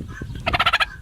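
A hen with an injured neck and foot gives a short burst of about five rapid, harsh gobbling clucks, close and fairly loud over faint background noise.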